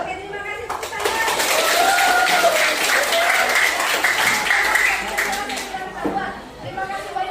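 Schoolchildren at a junior high school classroom session break into sustained applause and clapping for several seconds, loud and steady, with some chatter mixed in before it tapers off.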